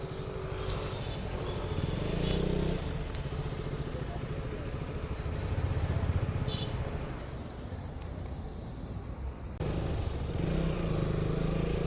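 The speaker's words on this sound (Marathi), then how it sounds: "सगळ्यांच्या गाडीचा फक्त फॅनचाच आवाज येतोय." Radiator fans on parked motorcycles whir in a steady, fairly loud drone that continues throughout, with a few brief dips and faint voices in the background.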